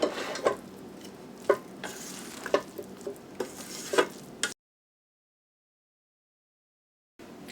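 A utensil fluffs cooked coconut rice in a pot with repeated soft scraping and clicking stirs, close and quiet, then a few seconds of silence before a brief return of sound.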